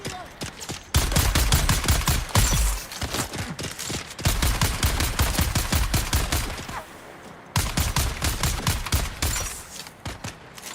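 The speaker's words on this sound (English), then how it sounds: "Who's shooting?" Rapid bursts of automatic gunfire in the video game Dune: Awakening, loud and close, coming in long rattling volleys with brief pauses between them.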